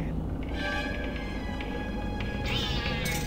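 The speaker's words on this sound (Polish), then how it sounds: "Kotek." A cat meows in the video game Black Mirror, a few drawn-out tonal cries over a steady background bed, with a final rising meow near the end; talk is present faintly.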